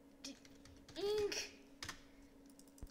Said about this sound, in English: I had to spam my keys just to actually type that in.